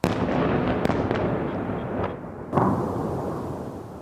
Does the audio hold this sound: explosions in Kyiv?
yes